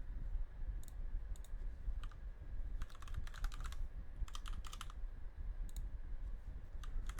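An email address and password are typed on a computer keyboard in quick bursts of crisp key clicks with short pauses between them, close and fairly quiet over a low background rumble.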